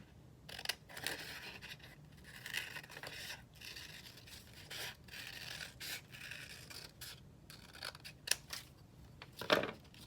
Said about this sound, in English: let's cut out another one and show you